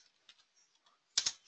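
A few soft, sparse clicks of keys being typed on a computer keyboard, quiet at first, then a brief louder cluster of key presses.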